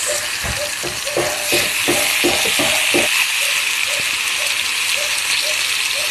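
Marinated chicken for chicken adobo dropped into a hot pan, a loud steady sizzle with a rapid series of clunks and crackles as pieces land, then settling into continuous frying.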